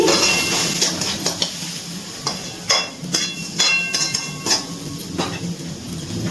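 Chicken chop filling with salt is stirred and sautéed in a pan: repeated spatula scrapes and clanks against the metal over a constant sizzle, close and fairly loud, with no voices.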